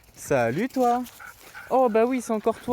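A dog met along a muddy country road in fields yips and whimpers in short high excited bursts close by, while someone speaks to it in a friendly voice over the sounds.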